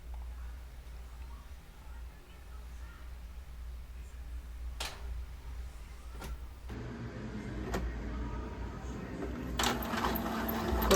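A printer printing only the odd pages of an A5 double-sided job, a faint steady whir with occasional clicks, then louder mechanical feeding and churning toward the end, quiet room, no talking.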